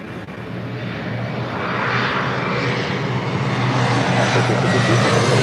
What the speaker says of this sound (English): This is Southwest Airlines 1863 taking off to Phoenix on a 737-700.